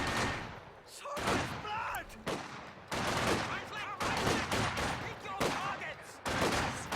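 MG42 machine gun fire rings out in a WWII strategy video game, coming as dense bursts of rapid gunfire mixed with other battle shots and loud throughout, while a commentator talks over it.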